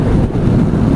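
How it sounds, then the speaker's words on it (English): Strong wind buffets the microphone during a motorcycle ride, a loud low rumbling roar that stays steady and close throughout the short stretch. "So it's pretty bloody windy today, as you can probably tell."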